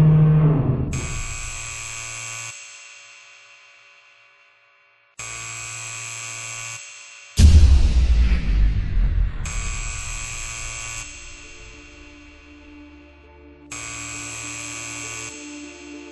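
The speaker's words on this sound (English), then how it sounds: "Dark plasma core startup sequence has been engaged on automatic mode." Startup sequence of a dark plasma reactor core in a video game: loud synthetic alarm tones sound in repeated bursts separated by silent gaps, with a deep rumbling surge partway through.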